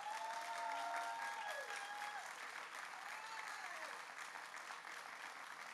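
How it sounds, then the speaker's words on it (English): Faint, steady applause from an audience at a city's State of the City address, applauding construction firms and workers behind a parks project, continuous clapping with a few tonal squeaks layered over it. "I want you to stand up so that you can get a round of applause as well."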